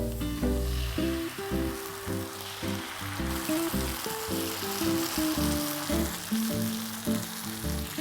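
Ginger garlic paste and tomato puree frying in a pan for chicken angara, a loud continuous sizzle heard up close with a steady crackle for several seconds and no talking.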